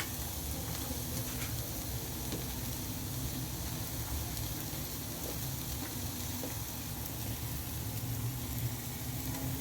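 Meat and green plums sauté for stew in a pan, a dense, steady sizzle and hiss lasting throughout at moderate volume without speech.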